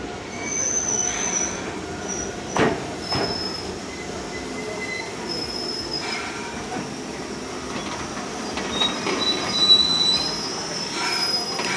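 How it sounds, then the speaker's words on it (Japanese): An Enoden electric train runs along the coast toward Kamakura, its wheels squealing and rails clattering continuously from close by, with a few sharper screeches standing out above the steady rumble and no talking. "江ノ島といったらやっぱり江ノ電に乗って鎌倉に向かいたいと思います。"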